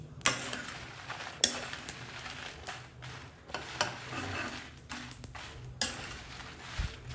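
Peanuts being dry-roasted in a pan for peanut chutney powder, with repeated stirring scrapes and light rattling of nuts against the metal, close and steady, with sharper clacks at intervals.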